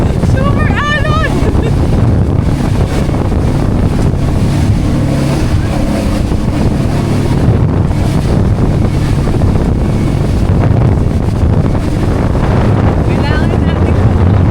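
A sea ambulance boat crossing big waves toward Basilan, with loud, steady wind buffeting and rushing water and hull noise throughout, plus brief voices and shouts near the start and end.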